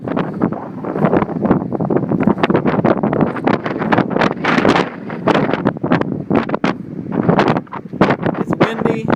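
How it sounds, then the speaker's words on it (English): Strong wind on a sunny day at Bonny Doon Beach buffets the microphone in a steady, loud roaring rush with gusty swells, while people talk throughout. "It's windy"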